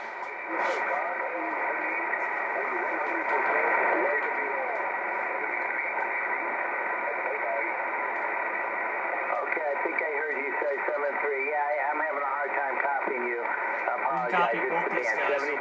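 Signals on the 20-meter amateur band come through an R-390A tube communications receiver. Sideband voices chatter through a narrow, band-limited hiss, and a few brief carrier tones break in near the start and at the end.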